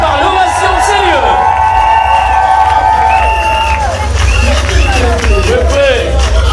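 Wedding guests give a loud, continuous crowd roar of cheering, whoops and excited chatter as the bride makes her entrance, with high shouts and ululating calls rising over dense babble throughout.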